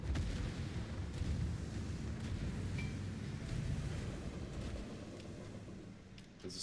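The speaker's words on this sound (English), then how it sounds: "He's 22 kilometers away and he's shooting at me." Naval artillery fire in the World of Warships video game, a low rumbling of distant booms rolling under a steady background roar, without any voices.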